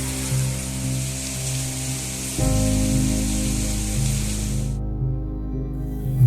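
Sudden rain falls outside the Alipore Jail Museum, a dense, steady hiss of drops heard from indoors over low tonal background music, cutting off sharply near the end.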